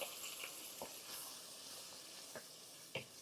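Vegetables sautéing in a hot pan in a home kitchen, a steady low sizzle with a few soft scrapes of stirring, faint and continuous with no voices.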